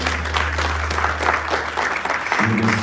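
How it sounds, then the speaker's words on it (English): A live audience applauds a K-pop performer at a Korean War anniversary ceremony in Washington DC, steady clapping throughout over a low hum, with a tone starting near the end. "Please give a big round of applause for our K-pop star,"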